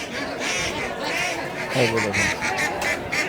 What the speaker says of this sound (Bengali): এই যে দেখো অসংখ্য পাতি হাঁস দর্শক দেখাই